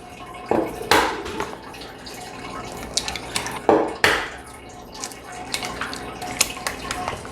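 Two eggs are cracked and dropped into a bowl of pumpkin pie filling, giving a few sharp taps and wet plops in two close pairs, with faint clinks of kitchenware.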